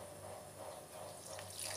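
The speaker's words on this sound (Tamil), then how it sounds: "செதில் வந்து கொஞ்சமாக தண்ணி ஊற்றிக்கிறேன் நான்." Water being poured into a mixer jar while making a peanut curry paste, a faint steady trickling pour running throughout with no talk.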